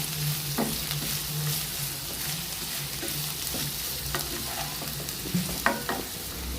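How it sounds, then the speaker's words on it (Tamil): Chopped large onions frying in oil in a kadai, giving a continuous close sizzle with occasional stirring scrapes and light utensil taps. "இப்போ ஒரு கடாயில் எண்ணெய் ஊற்றி பெரிய வெங்காயம் கட் பண்ணி வச்சதை நம்ம போட்டுக்கலாம்"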